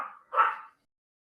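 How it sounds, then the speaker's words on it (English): A single short dog bark sounds indoors, moderately close but not loud, preceded by a faint yip and followed by silence. "my dog will keep barking"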